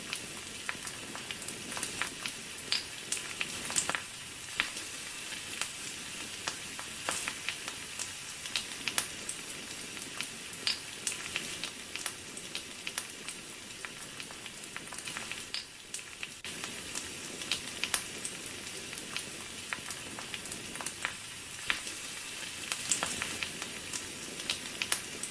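Canned pork loin stew with potatoes, corn, carrots and onions heats in a pan over an outdoor fire at an off-grid cabin, giving a steady, fairly faint crackle and sizzle with scattered pops throughout.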